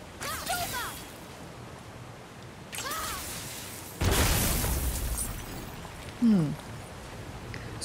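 Several explosive bursts in God of War, including a loud boom midway, mixed with whooshing effects and short chirping tones.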